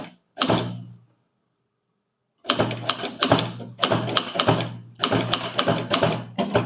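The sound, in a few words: manual typewriter typing a Tamil statement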